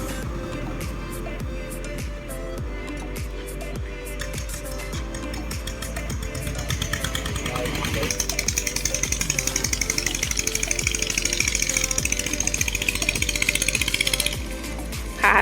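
A Thai e-taen farm tractor engine sold as-is, exhaust smoking from an unconnected pipe, chugs in a loud rapid thumping rhythm that revs up and grows harsher as gears are tried, with someone talking over it.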